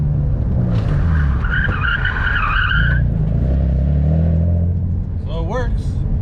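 Tires on a drift car fitted with a dual-caliper brake kit squeal and skid as the brakes lock up, giving a loud sustained screech over a steady engine rumble, ending with a brief rising rev.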